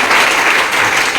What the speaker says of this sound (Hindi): ताली अपने लिए बजाएंगे।